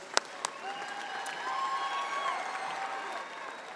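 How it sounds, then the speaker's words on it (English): A crowd at LSU's Summer 2022 commencement ceremony applauds the graduates: a few sharp claps, then sustained clapping with scattered cheers and whistles, heard from a distance in a large hall. "a round of applause for these graduates"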